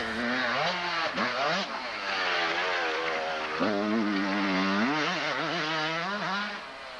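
A motocross motorcycle lapping a private practice track in the early 1990s, its two-stroke engine revving up and down through gear changes, loud and close, the whine rising and falling continuously with each acceleration.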